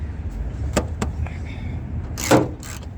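A ratchet works a 10mm nut at the battery terminal of a 2007 second-generation Mini Cooper, giving a few scattered sharp clicks and a short rasping burst, close by over a steady background hum.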